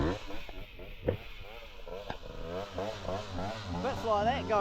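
A dirt bike engine on a muddy trail in New Zealand revs up and down with the clutch slipped, its pitch swinging and climbing toward the end, steady and close throughout.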